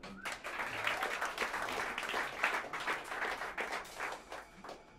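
Jazz club crowd at Smalls applauds a trumpeter, a moderate sustained patter of clapping, fairly quiet and steady for about five seconds.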